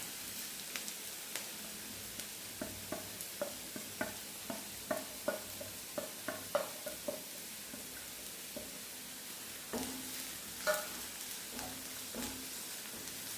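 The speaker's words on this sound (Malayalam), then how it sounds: "ഇനി ഇതൊന്ന് നല്ലപോലെ ഒന്ന് വഴറ്റിയെടുക്കാം" Onions with chili powder, turmeric and salt stirred in a pan for chicken curry, faint soft sizzle under a series of light scraping and tapping strokes of a spoon.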